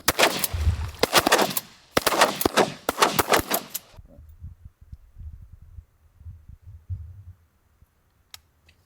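Shotgun blasts while hunting ducks and geese in Alberta, Canada, a rapid volley of loud sharp reports packed into the first four seconds, then quieter low rumbling and outdoor noise.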